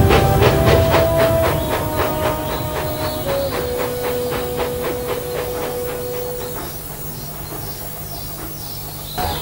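Smudger, a steam engine, chuffs away in a regular rhythm of puffs with whistling tones. The beats slowly fade and thin out as it draws off into the distance.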